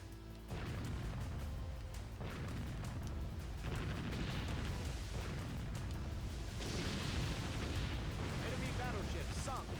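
Ship explosions and gunfire in the naval combat game Warship Gunner 2: dense, continuous booming blasts and crashes that run loud through the whole stretch, with a voice speaking over the battle.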